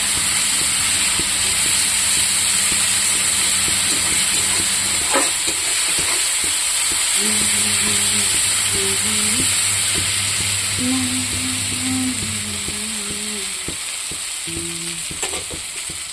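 Ginger, garlic and green chilli paste fries in hot oil with bay leaves for gugni, giving a steady close sizzle and hiss, with occasional light utensil clinks and a low hum underneath.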